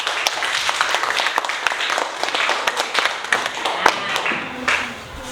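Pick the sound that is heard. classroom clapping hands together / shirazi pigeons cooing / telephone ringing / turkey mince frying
classroom clapping hands together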